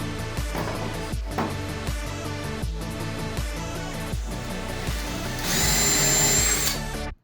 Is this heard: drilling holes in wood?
yes